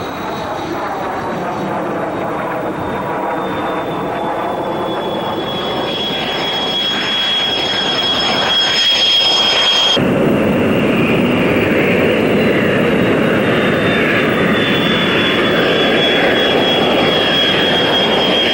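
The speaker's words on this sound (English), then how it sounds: "the F-16 flies at the opposite end of the design scale from the twin-engine F-15." An F-16, a single-engine fly-by-wire fighter jet, roars loudly and steadily with a high whining tone above the rumble, the sound shifting abruptly partway through and continuing as a broad, sustained blast.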